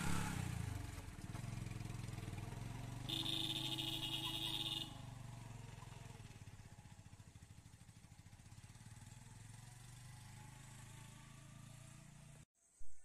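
A motorbike ridden along a road toward a village destination, its engine a steady close drone with rising and falling revs for about twelve seconds before cutting off abruptly, then a brief thump at the end.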